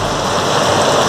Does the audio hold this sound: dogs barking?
no